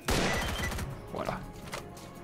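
A single sharp gunshot rings out in the video game STALKER Clear Sky, a loud crack at the very start that tails off into a short rumbling decay.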